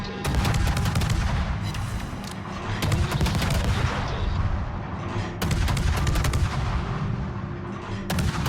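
Naval guns firing from warships in the video game World of Warships, repeated heavy booming salvos in clusters with rumbling tails and crackling impacts, loud and close, no talking.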